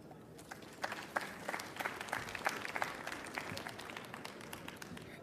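A conference audience applauds to welcome a speaker to the stage. Steady, dense clapping from a crowd sounds somewhat distant and soft, and it continues throughout.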